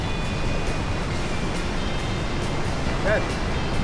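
Atlantic Ocean surf washes in at Rockaway Beach, a broad continuous roar of breaking waves with wind noise, loud and close throughout, while someone talks over it.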